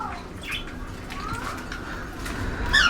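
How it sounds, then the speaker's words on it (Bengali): Diamond doves in a cage give soft, close coos mixed with a few thin chirps and a brief flutter. The birds are heard without talk. "এখানে আমার ডায়মন্ড অফ গুগু পাখি আছে"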